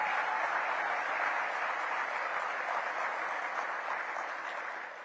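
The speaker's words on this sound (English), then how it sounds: "Please give them one more round of applause." Audience applause at a mayor's State of the City address in Tyler: a dense, steady wash of clapping from a large crowd that holds for several seconds and begins to taper at the end, with no speech on top.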